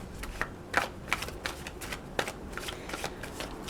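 Tarot cards being shuffled by hand, a steady run of soft papery riffles and flicks close by with no talking.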